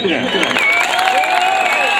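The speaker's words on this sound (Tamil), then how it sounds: "சும்மா கைதட்டுங்க" Audience at an outdoor village festival music stage applauding and cheering loudly in a dense, continuous wash, with voices calling out over the clapping.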